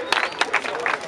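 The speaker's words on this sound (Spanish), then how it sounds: "¡Fuerte el aplauso para este aplauso," Short burst of audience clapping at a freestyle rap battle in León, Guanajuato, with sharp scattered claps and crowd babble mixed together, fairly loud and close.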